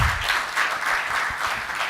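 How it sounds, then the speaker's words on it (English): A crowd applauds steadily at a corporate financial results presentation, a dense patter of many hands clapping at moderate volume throughout, with no voices over it. "Colleagues, let's give John Mukulu a round of applause."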